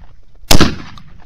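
Single loud shotgun blast fired during a Nebraska waterfowl hunt, sharp and close with a short outdoor decay.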